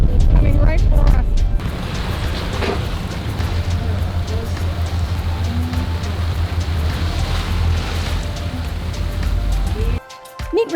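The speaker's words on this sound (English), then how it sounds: "Rain is coming. It's coming right for us." Rain falls on a catamaran near the Panama Canal, pattering loudly and steadily on the deck and water with wind, a dense roar that cuts off near the end.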